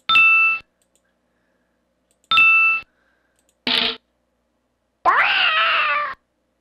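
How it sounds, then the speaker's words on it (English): A video game's cartoon cat meows after a series of bright, separated chime-like dings, each sound short and clean against silence, ending with a longer, sliding meow. "Classic cat sound, obviously."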